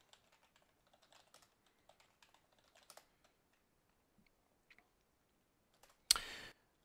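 Soft, quick keystrokes tap out a password on a computer keyboard in irregular bursts, faint and close, ending with a sharper louder noise.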